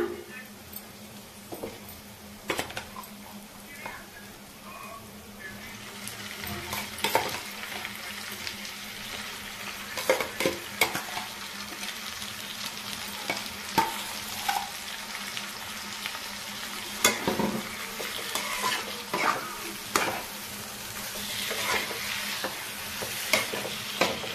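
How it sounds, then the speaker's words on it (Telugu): Prawns coated in chili powder fry in a pan and are tossed back and forth, with a low, steady sizzle broken by repeated scraping and clattering strokes of a spoon against the pan. "బాగా అటు ఇటు ఫ్రై చేసుకోవాలి"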